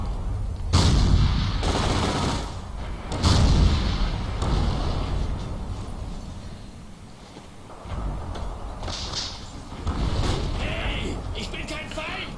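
Gunfire and explosions in the World War II multiplayer shooter Forgotten Hope 2 on the Dukla Pass map, loud bursts and heavy booms over a continuous battle rumble, with someone talking over parts of it.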